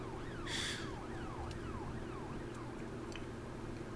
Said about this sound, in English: I don't think he needs sirens blaring for that one